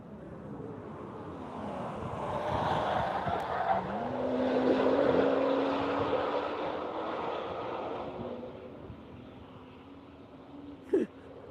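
An aircraft with a turbo engine arrives, its drone and tonal whine swelling from a distance to a broad peak, then easing off, with a brief sharp click near the end.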